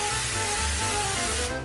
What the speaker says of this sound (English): So they want us to use cooking spray and spray the whole thing down.